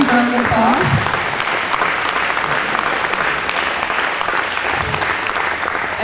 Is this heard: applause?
yes